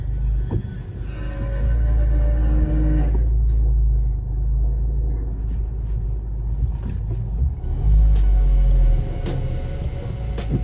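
Loud, steady low road rumble from inside a moving 2023 Honda Civic Type R (FL5), with scattered clicks and rattles near the wheels from stones caught in the brake shields, sharper ticking bursts toward the end.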